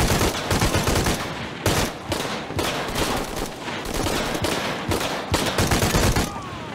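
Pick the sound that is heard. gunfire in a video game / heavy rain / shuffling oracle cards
gunfire in a video game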